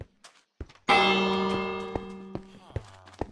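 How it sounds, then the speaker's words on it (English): A village bell in the Minecraft video game rings out with one loud metallic strike that decays slowly, preceded and followed by small game sounds and soft clicks. "The bell."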